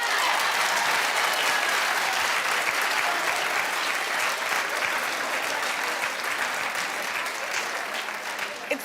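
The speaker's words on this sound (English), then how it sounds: "Clap if you would." A live audience claps together at a speaking event, a dense, steady wash of applause that fills the whole stretch without a break and eases slightly toward the end.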